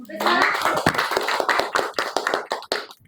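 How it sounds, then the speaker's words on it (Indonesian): An audience at a school presentation session claps for a group, a dense burst of hand claps mixed with voices, fairly loud and close. "kita aplaus untuk kelompok 1"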